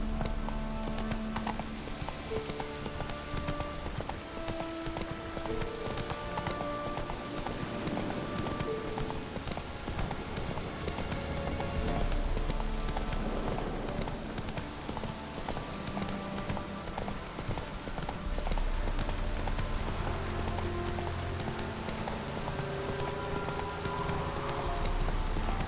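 Steady clip-clop of a horse's hooves in The Witcher 3 video game, a continuous rhythmic trot under light rain and soft background music, with no talking.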